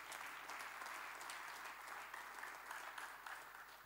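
A church congregation applauding, a steady even wash of many hands clapping throughout, distant-sounding and moderately quiet with no voices standing out.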